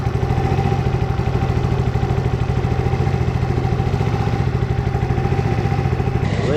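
A newly assembled Chinese scooter engine idles steadily up close, with a fast even putter and a metallic clatter underneath that keeps going throughout.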